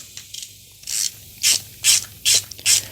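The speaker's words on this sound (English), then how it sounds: "Like, you can just run in a screw so fast." An ANEX 72 ratcheting screwdriver driving a screw gives a string of sharp, close ratchet clicks, about five distinct bursts in a quick rhythm, with faint lighter ticks before them.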